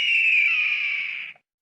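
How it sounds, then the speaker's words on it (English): A high, drawn-out screeching cry of an eagle, one sustained call lasting over a second that tapers off at the end, loud and alone. "Eagle."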